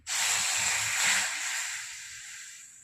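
Milk goes into a heated pan while making date and semolina modak, a sudden loud hissing rush that starts at once, holds steady, then slowly fades away.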